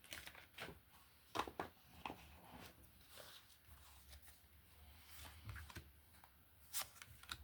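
Someone drawing a large tarot card from a deck: soft, quiet papery shuffles and slides with scattered light taps and flicks, close by, intermittent over several seconds with no speech.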